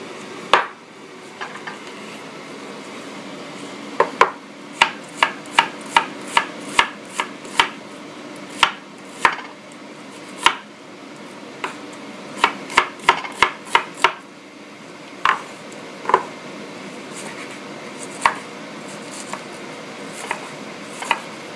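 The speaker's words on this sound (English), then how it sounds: "now I've chopped up a sweet red pepper" A knife chops a sweet red pepper on a cutting board, sharp distinct knocks in irregular bursts, some quick runs of strokes and some spaced out, close and alone in a quiet kitchen.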